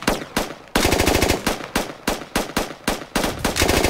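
Close, loud automatic gunfire in the video game Squad comes as a series of rapid bursts with short gaps between them, each burst a quick string of sharp cracks, and no voices.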